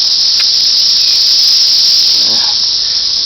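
Cicadas in Tennessee give off a loud, continuous high-pitched buzzing drone that stays level throughout, close and dominant, with a brief faint sound in the background partway through.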